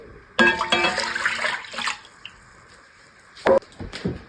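Water is poured into a baking pan of beef ribs seasoned with citrus brine, thyme sprigs, crushed red pepper and salt, a close splashing pour with a brief second splash after a pause.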